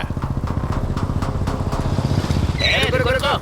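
A motorbike carrying two riders approaches with a rapid, chugging engine putter that stays fairly close, and a burst of dramatic music or effects rises at the end.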